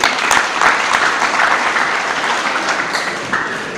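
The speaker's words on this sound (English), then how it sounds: "Clap your hands for that, brother." Audience at a church talk in Gweru, Zimbabwe, breaking into loud, brisk applause that stays strong and then tapers slightly near the end.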